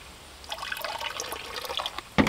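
Dr. Bronner's liquid soap poured into a tub of laundry water with dissolved washing soda, a soft liquid trickle and splash close up, ending in a brief louder splash.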